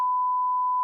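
A single steady censorship bleep from a TV broadcast, a pure tone held evenly for just under a second, starting and stopping abruptly with nothing else around it.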